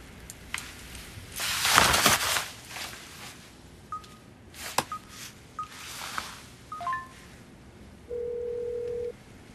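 A handset in a Korean TV drama scene: rustling handling noises, a series of short keypad beeps, then a sustained electronic ringing tone at the end, fairly close and without speech.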